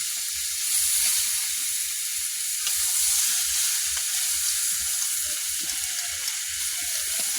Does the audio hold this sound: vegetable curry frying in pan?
yes